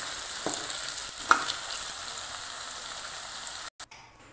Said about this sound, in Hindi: अब हम इसमें अरबी को फ्राई करेंगे।